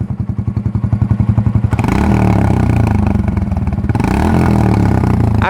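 Modified motorcycle silencer exhaust on a standing bike, first a rapid loud pulsing idle thump for under two seconds, then a sustained heavy bass rev with a dense rumbling roar that stays loud to the end, no voices.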